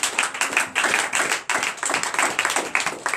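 Church congregation clapping during an all-night deliverance and prophecy prayer service, a loud close run of rhythmic hand claps in quick uneven bursts with brief pauses.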